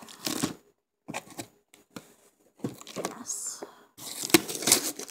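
A parcel sealed with heavy layers of tape being torn and opened, with bursts of ripping, crinkling and rustling in irregular clusters separated by short pauses, close to the microphone.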